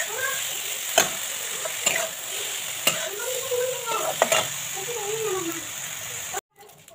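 Tomatoes frying in a kadai produce a sizzling bed broken by several sharp spoon clacks and stirring scrapes; a voice murmurs at points before the sound cuts off abruptly near the end.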